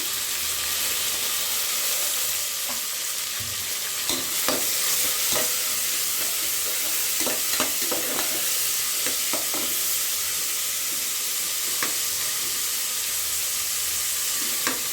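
Chopped onion and green chillies fry in a pan for kushka, a constant loud sizzle broken by scattered scraping and clinking stirs of a spoon, with no speech.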